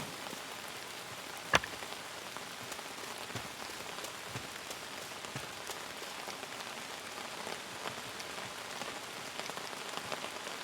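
Rain falls steadily in the video game Outbound, a dense patter of drops on surfaces throughout with one sharp louder tap early on, and no voices.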